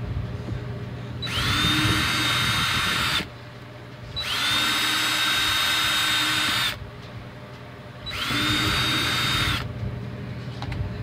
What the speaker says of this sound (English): Honing out these holes.